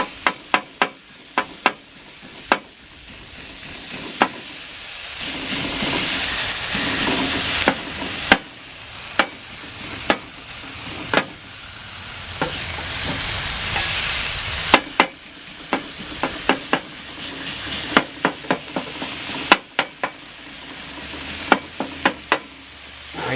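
Cheesesteak meat sizzles on a hot griddle while a spatula chops it, giving sharp, irregular metallic clacks over a constant close frying hiss, with no talk.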